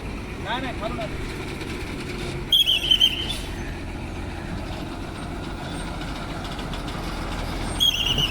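A state transport bus idles at a stop with a steady low engine rumble, joined by brief hisses of air brakes and a busy station background with people talking nearby.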